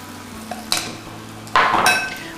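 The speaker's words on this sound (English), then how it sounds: "Let these guys fry for 2 to 5 minutes per side, or until you see that it's nice and golden brown" Fish fillets for a Tex-Mex dish fry in a pan, heard as bursts of loud, close sizzling with a few scraping and clinking utensil sounds in between.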